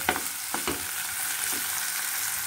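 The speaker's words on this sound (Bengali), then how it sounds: "ক্যাপসিকাম দিয়েও আমি বেশ কিছুক্ষণ আর একটু হালকা আঁচে, একদম আঁচটা কম করে একটু ভেজে নেব।" Capsicum and onion frying in a pan over a low flame for paneer bhurji, giving a steady soft sizzle with a few brief scrapes and stirs, close and alone with no talk.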